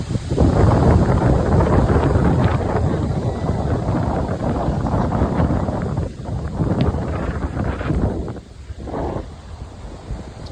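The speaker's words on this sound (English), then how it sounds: "It's windy." Strong wind buffeting a microphone outdoors by the water at a lakeside campground, a loud continuous rumbling roar that eases slightly toward the end, with no one speaking.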